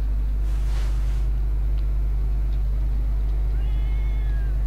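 A cat meows once in S.T.A.L.K.E.R. game audio, a short rising call set against a steady low machine hum, with no voices.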